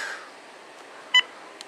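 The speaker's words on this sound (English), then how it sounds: "I just made a quick phone call to Thomas via one T80" Cordless phone dialing, with a single short electronic beep cluster of two tones and a faint second blip after it, heard alone over a quiet background hiss.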